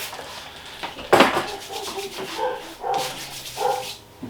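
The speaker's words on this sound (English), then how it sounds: "Sorry about the barking, guys." A dog barks a few times at a moderate distance, short sharp yaps spread across the moment, with faint clinking in the background.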